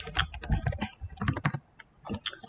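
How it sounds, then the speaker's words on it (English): Fingers type on a computer keyboard in bursts of quick, light key clicks with short pauses between them, close and fairly quiet, with no speech. "I cannot type apparently."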